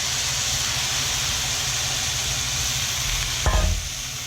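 Onions sizzle steadily in hot oil in a wok, with a loud hiss and a sudden sharp clatter and burst of frying near the end as more goes in.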